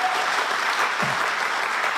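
Congregation applauding during an Indonesian Sunday church worship service, a steady dense wash of clapping throughout, with a faint voice briefly underneath.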